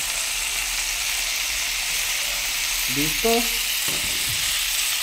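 Salted spinach fries in a pan with chopped chili, onion and tomato, sizzling and crackling steadily up close, with a short spoken word and a brief clatter of stirring near the end.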